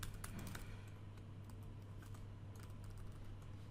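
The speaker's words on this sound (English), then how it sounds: "sometimes a keyboard can cause some problems. So what I want to do, type it in Notepad." Quiet rapid typing on a computer keyboard, with a scatter of soft key clicks over a steady low electrical hum and no voices.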